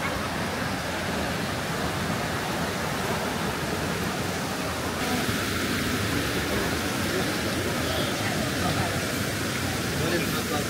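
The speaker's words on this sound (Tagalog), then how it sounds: "The waterfalls na." Broad, steady rush of a waterfall near Shifen in Taiwan's North Coast area, a continuous wash of water noise that holds level for the whole stretch with no clear voices over it.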